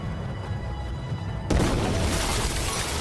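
A sudden explosion in the 2020 film The Call bursts in at mid-clip as a loud, shattering boom with breaking debris, after a quieter muted stretch, and the blast's rumble carries on to the end.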